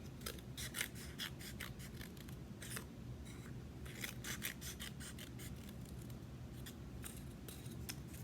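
Scissors snip through a paper plate in a steady series of crisp, close cuts with brief pauses between bursts and no talking.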